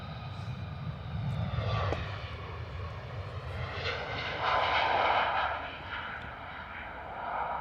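An airliner departing Stansted for Lisbon rumbles steadily at a moderate distance, its jet roar rising to a fuller peak midway and then easing slightly, heard alone without talk.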